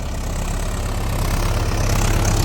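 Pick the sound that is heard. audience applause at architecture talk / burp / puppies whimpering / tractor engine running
tractor engine running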